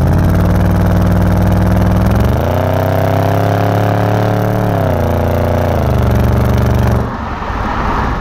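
A 2006 BMW 650i engine idles through a modified exhaust with a deep, throaty, muscle-car-like rumble, revving up briefly in the middle before settling back, loud and close.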